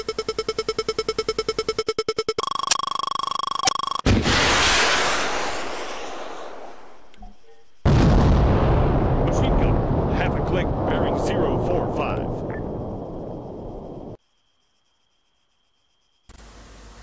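Launcher fire and a blast in Arma 3: a mechanical buzzing lead-in, then a loud whooshing launch, a pause, and a heavy explosion with a long rumbling roar that cuts off abruptly.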